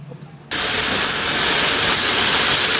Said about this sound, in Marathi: पनीर असं फ्राय करतात